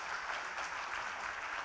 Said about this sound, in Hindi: केआरएस मल्टीप्रो प्राइवेट लिमिटेड के लिए जोरदार तालियां दोस्तों